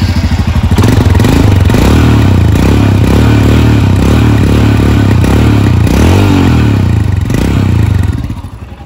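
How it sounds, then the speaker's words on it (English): A 2022 Royal Enfield Scram 411 single-cylinder motorcycle idles loud and close with a thumping exhaust note, gets a few brief throttle blips, and is then cut off at the end. "so that you guys can listen to the exhaust note"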